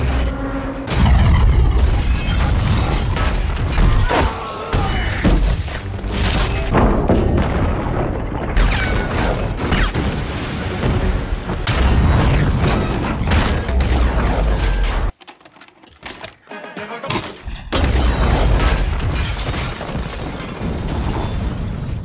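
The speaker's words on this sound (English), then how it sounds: "I'm pretty sure that there are things going boom in Bumblebee." Dense movie action from Bumblebee, with repeated loud booms, crashes and explosive bursts layered over heavy mechanical clatter, broken by a brief quiet drop before the chaos resumes.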